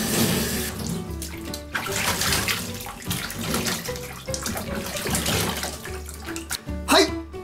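Running tap water rinses a mud face mask off, a steady close splashing and gushing from the faucet with shifting bursts as hands move through the stream.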